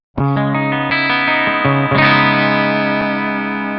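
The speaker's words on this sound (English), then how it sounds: "I've switched to a clean tone of my Prometheus pack" Clean electric guitar chords ring out on the bright bridge pickup of an Enya Inspire carbon fiber guitar, several strums sustaining and overlapping, close and clear.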